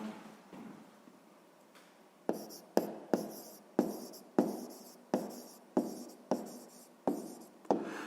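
Pen writing on paper while working a sixth-grade maths exercise, a quiet scratch early on followed by about ten regular, close strokes, each a short scratchy burst, with no talking.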